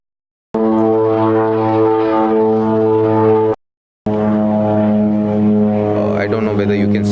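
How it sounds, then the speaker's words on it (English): A seaplane flies near the airport in the Maldives, its loud, steady propeller drone filling the air close by, cutting out for a brief half-second before resuming just as strong. "I don't know whether you can see it, but that's a seaplane."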